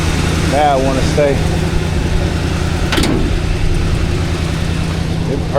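Chevrolet Monte Carlo engine with newly installed long tube headers idling, a steady low rumbling burble close by, with people talking over it.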